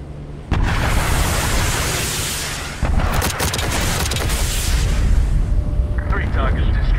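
Warship guns fire forward in the naval combat game Dreadnought, a sudden loud blast followed by a second heavy volley, with dense rumbling battle noise sustained throughout and voices over it.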